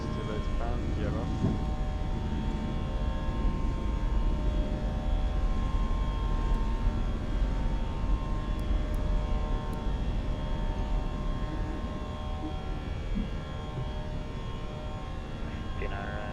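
An airliner takes off in a flight simulator game, giving a steady droning engine rumble at moderate level with a constant hum, while pilots speak over it.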